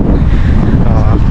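Loud, cold, blustery wind in a New Zealand park buffets the microphone in a constant low roar, with muffled talk faintly underneath.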